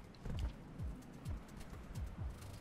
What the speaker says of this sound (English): It's a vulture. That's a vulture.